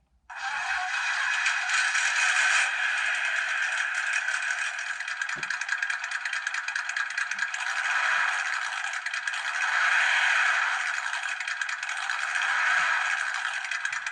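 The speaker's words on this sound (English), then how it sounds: "Then the engine sound." Simulated engine note from a sound module fitted to an Orlandoo Hunter RC model car, a steady buzzy electronic drone that runs continuously for about fourteen seconds with slight swells in intensity and no talk over it.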